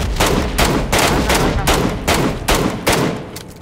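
Gunfire in the mobile battle royale game PUBG / BGMI: loud, dense bursts of rapid automatic shots hammering in quick succession for several seconds, the player apparently under fire, with no speech over it.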